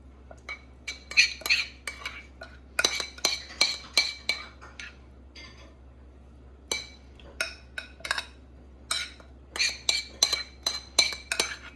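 Shredded coconut and milk going into a well-seasoned cast iron skillet for almond brownies: a metal utensil clinks and scrapes against the pan and bowls in irregular clusters of sharp taps, close and fairly loud, with no talking.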